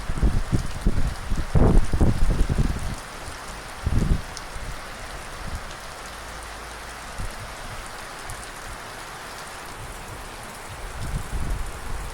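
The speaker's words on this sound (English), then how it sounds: "it's just the rain bouncing off" Rain spattering on nearby surfaces during a thunderstorm, a steady hiss with a few heavier thuds and gusts early on, then settling into a quieter, even patter.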